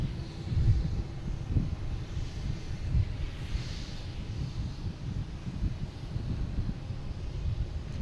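A United airliner bound for Denver lining up on runway 9 at Boston Logan, heard as a distant low jet rumble blended with steady wind noise on the microphone.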